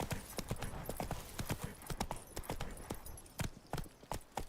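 Roach, the horse in The Witcher 3, gallops with rapid, sharp hoof clip-clops in a quick uneven rhythm, loud and close, with the beat continuing throughout.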